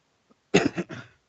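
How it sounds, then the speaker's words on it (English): A person coughing during a live wrestling watch-along, one sharp cough followed by a second shorter one, close and clear, after a faint small throat sound. "For some reason, I am now coughing"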